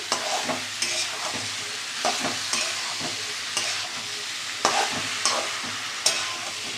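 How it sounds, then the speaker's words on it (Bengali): Soybean chunks and papaya stir-fry in an oiled pan, producing a steady sizzle with rhythmic scraping and clacking of a spatula every second or so, close and fairly loud. "সয়াবিন আর পেঁপেটা দিয়ে দিলাম, আবারও কষিয়ে নেব ভালোভাবে।"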